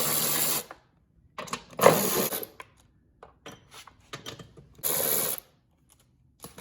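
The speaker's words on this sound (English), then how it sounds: "at this point, I usually pull the covers off of here, all right? And they're a 10mm socket." A ratchet fitted with a 10mm socket removes the deck cover bolts on a John Deere riding mower. It gives three short, close bursts of rapid clicking, separated by quieter pauses with a few faint clicks and handling sounds.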